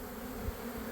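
Robber bees swarm around old, empty honeycomb, a continuous low buzzing hum of many insects that stays steady and fairly faint, with no voices.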